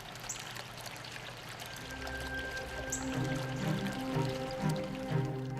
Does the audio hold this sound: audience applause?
no